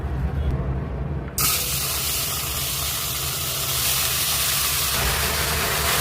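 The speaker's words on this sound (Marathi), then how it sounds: "आता आपण याला उकळून घेऊयात।" Cluster beans (gavar) set to boil in a pot of water: after a brief quieter moment, a loud, constant steamy hiss starts abruptly and holds close up to the end.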